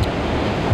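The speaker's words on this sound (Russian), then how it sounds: "И сегодня пришла та самая волна." Sea waves break on the shore at Sochi during a surfing championship, a loud, steady wash of surf and wind noise filling the whole short stretch with no voices.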